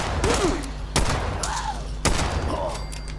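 Pistol shots in Fallout 76, three sharp cracks spaced about a second apart, with brief game effects sounding between them.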